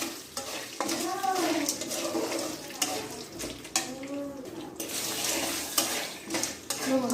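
Chickpeas fry in hot salted oil as a spoon stirs them, giving a steady sizzle broken by repeated scraping and clinks of metal against the pan.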